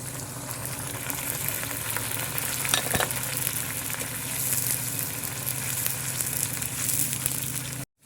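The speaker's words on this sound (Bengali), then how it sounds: "পেঁয়াজগুলো আমার ভাজা হয়ে গেছে।" Chopped onions fry in a pan with bay leaf and garam masala, a dense, steady sizzle that runs close and even for about eight seconds before cutting off abruptly, with no speech.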